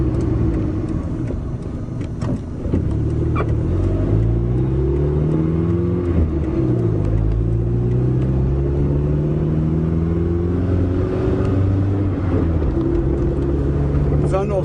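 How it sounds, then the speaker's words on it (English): Vehicle engine pulled at half throttle up to about 20 mph, a loud close drone whose pitch climbs and sweeps through repeated rising bands, with someone talking over it. "That's half throttle again. Took it right up to 20 miles an hour."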